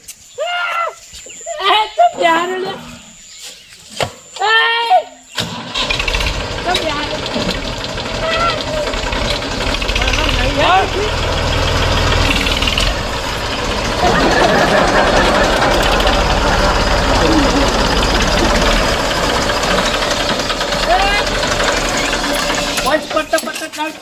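Brief speech opens, then a close, steady tractor engine idles with a rapid knocking chug that runs unbroken for the rest of the stretch.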